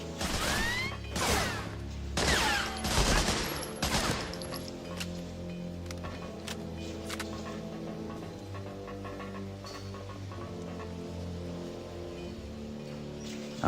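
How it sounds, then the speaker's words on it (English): Gunfire in Medal of Honor Frontline on PS2, with a cluster of loud sharp shots and crashes early on, then a softer steady game background with occasional faint distant pops. "who is shooting me?"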